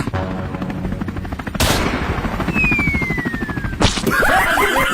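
Rapid bursts of gunfire crackle over a loud, throbbing rotor drone, with a thin descending whistle cutting through the middle.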